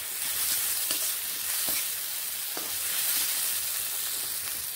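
A mixture of spices and chicken fries in a pan with a constant bright sizzle while it is stirred, with a few soft scraping taps underneath. No one speaks.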